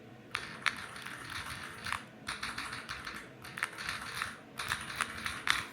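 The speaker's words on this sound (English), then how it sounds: "This is a keyboard I bought from my Singapore trip." A mechanical keyboard bought on a trip to Singapore is typed on in quick clicky bursts separated by short pauses, close and clear in a quiet office, with no talking.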